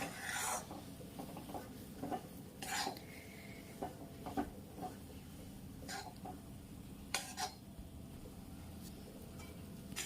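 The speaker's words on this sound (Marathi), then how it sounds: "तोपर్यंत काजू बदामांचे पीठ सुद्धा ब्राऊन कलर येईपर्यंत भाजायचं" Cashew and almond flour is dry-roasted in a pan for dink ladoo, with a spatula scraping and rasping across the metal in steady strokes and an occasional sharper clink, close and quiet, without speech.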